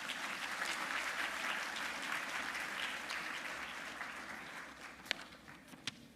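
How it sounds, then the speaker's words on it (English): An audience at a 2015 global forum applauds the panelists, a steady wash of clapping that fades slightly, with a couple of sharp louder claps near the end; faint and with no talking. "So let's give them an applause."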